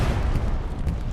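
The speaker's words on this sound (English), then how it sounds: "Katyusha's falling." A Katyusha rocket barrage crashes down during a night battle on the Kharkov map in Hell Let Loose, a dense, continuous roar of overlapping blasts and rumble with no pause across the short stretch.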